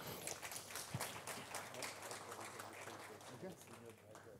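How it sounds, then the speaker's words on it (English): An audience at a forum applauds as a panel guest is introduced, producing a soft, steady patter of many hands that sounds quiet and distant and fades toward the end. "clap your hands for our next guest of the panel, Maître Sarr"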